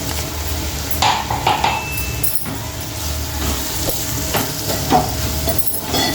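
Tomato and a ground paste of garlic, peanuts and cashews fry in a pan for bitter gourd pulusu, with a close, moderate sizzle broken by spatula scrapes and a few metallic clinks, no talking.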